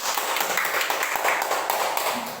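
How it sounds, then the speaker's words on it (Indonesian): A seventh-grade class claps together in a classroom, a dense, fairly loud patter of many hands that keeps up for a couple of seconds. "Tepuk tangan dulu."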